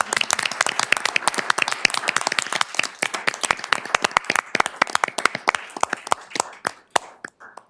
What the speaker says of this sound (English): I just would like to give them a round of applause